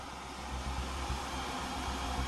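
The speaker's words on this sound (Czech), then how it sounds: "Zvukoví technici se zabývají všemi částmi vysavače, které vydávají zvuk" A vacuum cleaner runs with a steady, even roar and airy hiss, close and constant throughout, with no speech.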